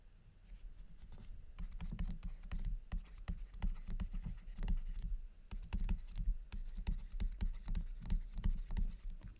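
Rapid scratching and tapping of a pen or chalk writing notes during a chemistry lecture, a busy continuous patter of strokes and taps, close and fairly loud with no talking.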